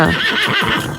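A horse neighs in one short, wavering whinny, loud and close.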